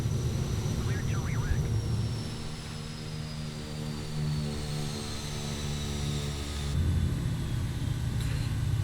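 Propeller aircraft engine in a flight simulator game runs down during a rolling shutdown, a steady low drone and rumble that dips and swells slightly, with a faint whine sliding downward above it.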